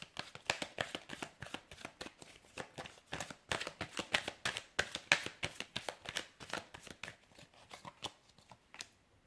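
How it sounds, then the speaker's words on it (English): Tarot cards being shuffled by hand, a rapid series of crisp riffling slaps and flutters in uneven bursts, close and clear with no talking. "I'm going to give the cards a shuffle"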